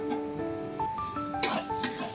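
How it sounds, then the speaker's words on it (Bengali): Chicken and onion frying in a pan, stirred with a utensil; soft sizzle with a couple of sharp scrapes and clinks. "আবারও ভালোভাবে নেড়ে নিতে হবে।"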